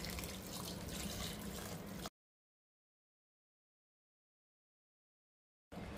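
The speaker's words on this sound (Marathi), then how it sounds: "आता याच्यामध्ये कण्णी शिजण्यासाठी पाणी टाकूया." Hot water poured into a pot of cooking ambada (gongura) bhaji with broken rice, a steady watery pouring for about two seconds, followed by a break and a brief return of the sound.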